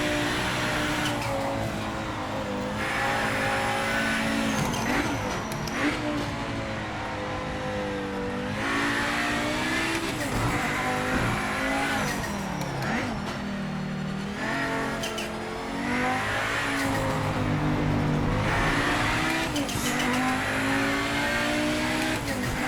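Race car lapping a circuit in the Project Motor Racing sim, its engine droning loud and continuous with rising and falling pitch through gear changes and corners, no talking over it.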